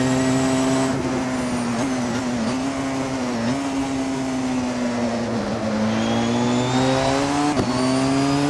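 Porsche 919 Hybrid 2015 race car driven around Silverstone 1967 in Assetto Corsa, a steady high-pitched engine drone with continuous harmonic whine, brief dips and re-accelerations, close and loud throughout with no talk.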